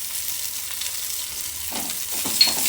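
Vegetables sautéed with neem leaves, coriander leaves and green chillies for a vegetable masala dosa, producing a steady frying sizzle, with stirring scrapes growing louder toward the end.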